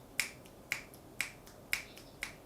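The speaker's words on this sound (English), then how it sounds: "Do you hear me snapping my fingers?" Five crisp finger snaps in a steady rhythm, about half a second apart, soft and close against near silence.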